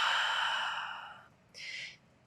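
A long, soft exhale during a vinyasa yoga flow, close and breathy, fading out over about a second, followed by a shorter, airier breath.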